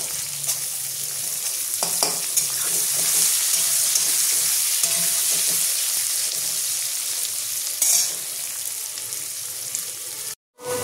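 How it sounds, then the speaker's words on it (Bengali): Chopped onions frying in hot oil with chicken and stirred in a pan, a dense steady sizzle with occasional spatula scrapes and knocks, close and loud, then a brief cut to silence near the end. "এর মধ্যে এবার আমি পেঁয়াজ কুচিটা দিয়ে দেবো। পেঁয়াজটা আমি লাল করে ভেজে নেব।"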